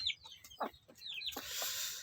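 Free-range village chickens at a simple backyard coop give a few short clucks and chirps close by, ending in a stretch of broad, rustling scratchy noise.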